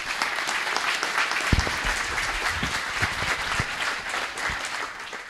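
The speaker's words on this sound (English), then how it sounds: "So would you give her a round of applause," An audience at a college history lecture event breaks into applause, a dense sustained patter of many hands clapping with a few sharper nearby claps, fading slightly toward the end.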